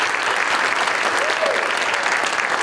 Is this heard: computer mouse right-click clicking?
no